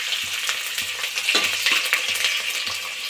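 Onions fry in hot oil with a steady bright sizzle, and a soft rhythmic stirring scrapes the pan every half second or so.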